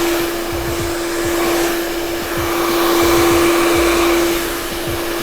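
A handheld hair dryer runs in a steady, loud, continuous whoosh with a constant motor hum while blow-drying hair with a B.LEE Gold styling brush, its airflow swelling slightly mid-way as the dryer is moved.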